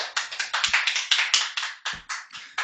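Thunderous applause from a live audience welcoming a guest named Jean-Pierre onto a talk show stage, steady dense clapping in quick surging waves with a few sharper hits, no voices.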